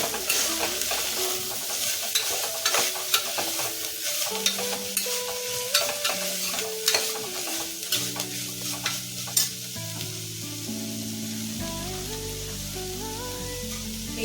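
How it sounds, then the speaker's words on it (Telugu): Carrot pieces and sweet corn kernels frying for a coconut milk sweet corn biryani, a constant close sizzle with repeated stirring scrapes and clinks against the pan, no talk. "కొద్దిగా క్యారెట్ ముక్క వేసుకొని కొద్దిగా ఫ్రై చేసుకోవాలి"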